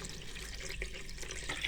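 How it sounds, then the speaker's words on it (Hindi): Water pours steadily into a soup pot, two liters added for a Turkish-style chicken broth; a continuous, close, splashing rush with no pauses. "हम इसमें 2 लीटर पानी शामिल कर देंगे ताकि इसकी अच्छी सी यखनी निकल जाए"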